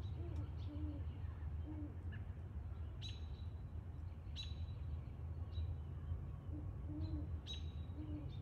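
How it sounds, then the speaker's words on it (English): Two owls hoot back and forth outdoors, soft low hoots repeating at intervals over a steady background rumble, with a few faint higher calls between them. "So we've got two owls."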